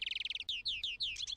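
A goldfinch sings close and clear, opening with a rapid run of short, bright chirps, then several longer slurred notes, with no other sounds around it.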